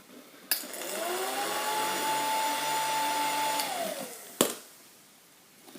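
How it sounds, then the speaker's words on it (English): A hair dryer switches on with a click and whirs steadily with a high whine, then winds down and clicks off. "To provide hot air into the system, I'm currently using a hairdryer."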